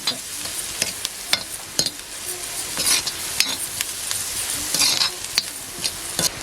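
Onion sizzling in oil on a griddle over a wood-fired stove as curry leaves and tomato go in, with a close, continuous crackling fry broken by sharp stirring scrapes and bursts of louder spitting.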